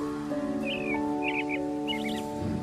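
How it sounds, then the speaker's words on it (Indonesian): Birds chirp in the morning in short, bright bursts of tweets, fairly close and spaced apart. A sustained tonal hum plays quietly underneath them. "Pagi-pagi memang seneng banget dengar kicauan burung."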